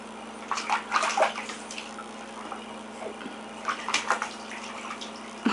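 A small child splashes water in a bathtub at home, with two short bursts of splashing and sloshing separated by quieter dripping water.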